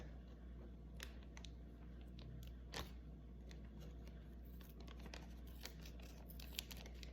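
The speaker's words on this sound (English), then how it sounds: "Using scissors." Scissors snip and crinkle through a plastic Happy Meal toy bag holding a Grimace collectible, with scattered soft crackles and small clicks over a steady low hum, close and quiet, no talking.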